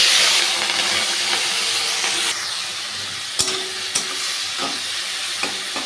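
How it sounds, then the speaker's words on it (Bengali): Prawns coated in salt and turmeric sizzle in hot mustard oil in a pan, a steady loud hiss that eases slightly partway, broken by a few sharp pops and spatters. "সর্ষের তেলটা গরম হওয়া অবধি অপেক্ষা করব। তেল আমার হিট হয়ে গেছে। এবার এই চিংড়ি মাছটা আমি নুন হলুদ দিয়ে মাখিয়ে রেখেছিলাম, সেই চিংড়ি মাছটা এর মধ্যে ছেড়ে দিলাম।"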